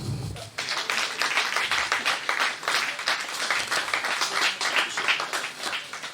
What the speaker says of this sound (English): Engineer Boye deserves a round of applause, please